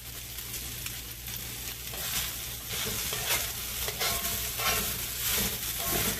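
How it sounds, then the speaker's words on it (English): Fried rice stir-fried in oil, a loud continuous close sizzle with scraping and tossing strokes of a utensil through the pan, steady throughout. "Adding just a little bit more oil as I go along. Get this all toasted up together."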